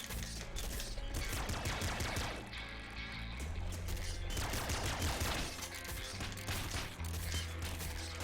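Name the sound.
gunfire from weapons in the video game Nuclear Throne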